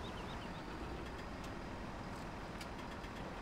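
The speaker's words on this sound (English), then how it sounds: "a tractor approaches" Steady tractor engine drone in Farming Simulator 17: a continuous low idling rumble, fairly quiet and even, with faint mechanical clicks and no voices.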